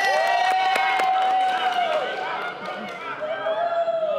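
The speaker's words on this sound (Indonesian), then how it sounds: "Tepuk tangan dong buat semuanya." Audience clapping and cheering during a special-edition podcast about a customs sniffer dog, heard beneath a loud sustained whistle-like tone and talk, tapering off toward the end.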